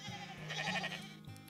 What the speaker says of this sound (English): There's a flock of sheep coming this way.